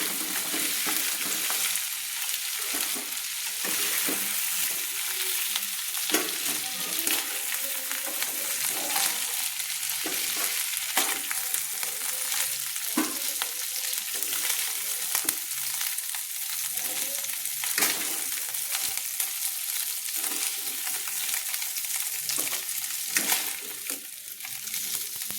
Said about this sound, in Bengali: মাছের মাথা টুকরোগুলো কিন্তু ভেজে ভাজা হয়ে গেছে, দেখুন একদম লাল লাল করে ভাজা হয়ে গেছে।